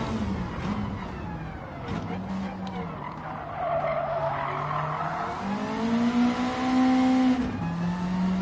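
Race car tires squeal and skid in a racing video game, heard as a sustained wavering screech over a loud engine drone that rises toward the end, with a voice talking at times.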